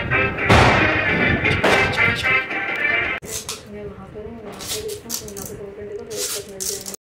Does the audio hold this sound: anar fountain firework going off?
yes